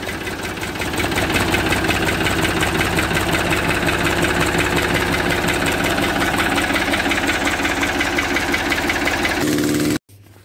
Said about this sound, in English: Kubota RTV X1100C.